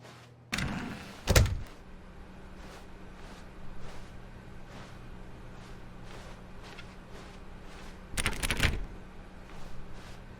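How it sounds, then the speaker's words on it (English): A door in The Stanley Parable video game, two heavy thuds and rattles near the start and a longer clattering burst later, over quiet ambient hum with faint steps between. "When Stanley came to a set of 2 open doors, he entered the door on his left."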